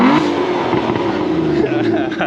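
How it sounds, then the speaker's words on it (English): Aston Martin DB9 engine revving hard under firm throttle, a loud, steady roar close by that holds for a couple of seconds with slight swells and no gaps. "if you firmly press your foot on the accelerator"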